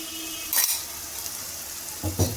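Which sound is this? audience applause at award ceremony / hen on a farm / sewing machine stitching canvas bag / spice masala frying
spice masala frying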